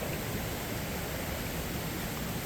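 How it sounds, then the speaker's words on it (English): Stream water rushing over rocks at a secluded cascade area near McCalls Ferry, a steady broadband wash of flowing water, close and continuous with no other sounds. "I hear even more water flowing up ahead."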